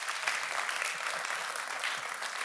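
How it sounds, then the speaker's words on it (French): An audience at a municipal New Economy awards ceremony applauds steadily, a dense even patter of many hands, with no voices over it. "que je vous propose d'applaudir à nouveau."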